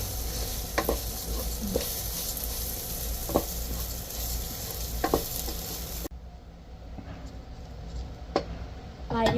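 Rice frying in a pan with salted meat while a spoon stirs, a steady sizzle broken by scraping strokes; the sizzle drops quieter midway as stirring scrapes continue, and a voice talks briefly.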